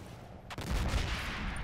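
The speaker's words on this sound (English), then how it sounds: "more spotting rounds" Artillery spotting rounds landing in the Combat Mission: Battle for Normandy video game, a sharp blast followed by a heavy rolling boom that lingers at a steady level.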